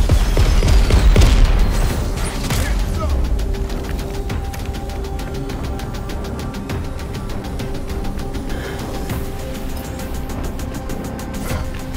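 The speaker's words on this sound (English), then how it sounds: "Those AA guns are fierce." Heavy anti-aircraft gunfire in the Crackdown 3 video game, a dense, sustained barrage of rapid booming shots with a mechanical rumble underneath, loud and continuous throughout without any talk.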